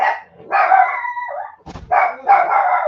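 A pet dog barks and yips in a few sharp bursts indoors, close and fairly loud, with brief pauses between the barks.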